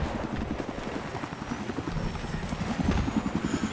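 Little Bird helicopter in the video game Battlefield 3, its rapid rhythmic rotor thumping fairly close and steady, overlaid by scattered gunfire-like clicks and distant battle noise.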